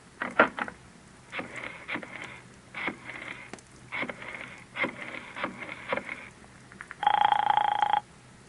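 An old-fashioned telephone rings in repeated bursts in an old time radio drama, evenly spaced rings at moderate level, ending with a steady tone.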